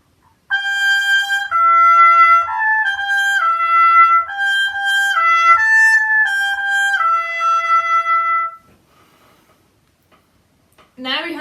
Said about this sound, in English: his motif will be high and like a lullaby that you would sing to a baby